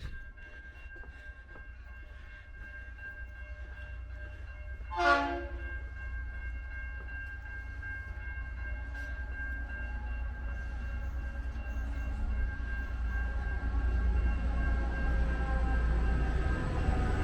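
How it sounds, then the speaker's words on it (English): A train rumbles steadily through Kyneton Railway Station in Victoria with one short horn blast early on, the rolling noise building louder as it draws near. "we'll try to catch this train coming through"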